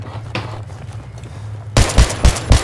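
Sniper fire from an SV98 rifle in a video game, several sharp, loud, close shots in quick succession after a quieter stretch of low hum and light movement.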